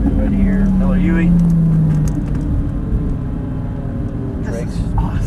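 Lamborghini engine pulling hard at full throttle out of a turn on an airport runway track, a loud steady roar with a rising tone at first, then a constant rumble, continuous and close.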